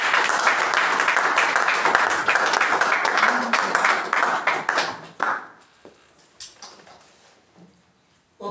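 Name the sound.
congregation applauding for the Lord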